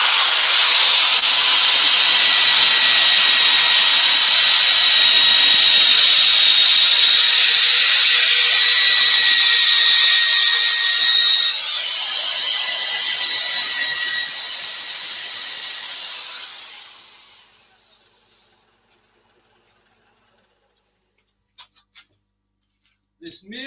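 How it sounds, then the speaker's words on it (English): A wooden bird's mouth bowl sanded to 240 grit, a steady loud hissing rasp that eases off and fades out after about seventeen seconds, followed by near silence with a few faint clicks. "I'm just going to sand this to 240."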